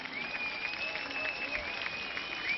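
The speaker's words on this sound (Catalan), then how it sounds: "Ara aquest aplaudiment creix" Crowd applause at a correfoc fire-run festival in Muro, Mallorca, steady and moderately loud, with whistles or shouts cutting through the clapping throughout.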